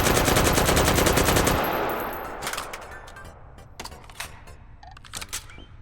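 A G36 rifle fires in the VR game H3VR, a fast, loud automatic burst lasting about a second and a half that fades out, followed by quieter mechanical clicks and handling clatter.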